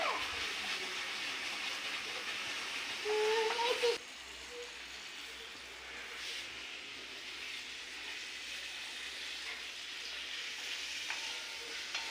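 Spice masala and raw tomato sautéing in a pan for a mourola fish curry, a steady, moderate sizzle that drops slightly after a brief scrape, with a voice heard faintly at moments.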